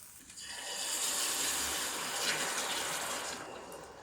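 Water is poured into tomato passata sauce cooking with softened spring onions, a continuous close rushing splash that swells and holds for about four seconds without talk.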